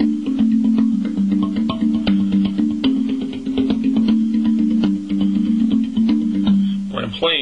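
Bell-like metallic tones struck in quick succession on a tongue drum, two or three tongues ringing together into warm sustained chords with a steady tapping rhythm.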